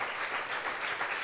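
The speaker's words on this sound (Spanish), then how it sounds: "Let's applaud Christ Jesus" A church congregation applauds in a brief, dense burst of steady clapping that sounds moderately distant.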